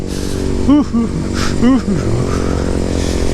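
A motorcycle engine climbs in short revving surges while touring Mount Bromo in cold, darkening mist, the motor droning steadily close by with people talking over it.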